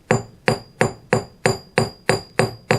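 A forging hammer strikes hot metal in a steady, even rhythm, about three blows per second, each hit sharp, loud and ringing briefly.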